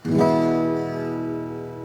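A single strummed acoustic guitar chord, played after a correctly sized saddle is fitted, rings out clearly and sustains, slowly fading with a warm, clean tone.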